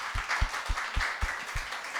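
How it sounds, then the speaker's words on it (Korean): A church congregation gives a short round of applause for its volunteers, sparse and fairly rhythmic hand claps from a modest crowd in a hall, with no voices over them. "수고하셨다고 박수 한번 우리 했으면 좋겠습니다"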